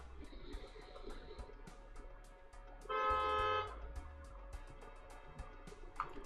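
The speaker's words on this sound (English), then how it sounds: "Somebody like honked their horn right outside my window." A car horn honks once outside a window, a loud sustained blare of about a second standing out over quiet room tone and soft background music.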